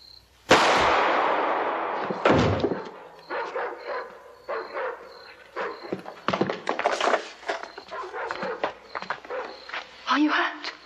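Gunfire erupts in a movie scene: a loud opening blast followed by scattered sharp cracks and bursts, mixed with shouting voices and a rumbling din throughout.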